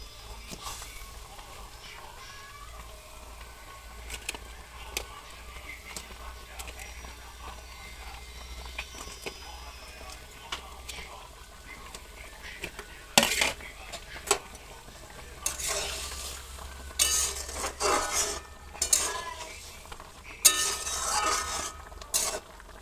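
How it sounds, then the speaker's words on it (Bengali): Taro pieces added to a boiling curry and stirred, with soft bubbling, then louder clinks and scrapes of a spoon against the pot in irregular bursts toward the end, close and fairly quiet. "এবারে আস্তে আস্তে কচুগুলো এতে ছেড়ে দেবো"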